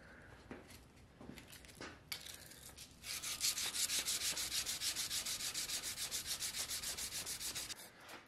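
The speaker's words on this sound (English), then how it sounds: "Now I'm in here with my 500 grit and I'm just further cleaning up this spine" A steel knife spine is sanded with 500 grit sandpaper on a hard backer: a few scattered scrapes, then a run of quick, even back-and-forth strokes, close and fairly loud.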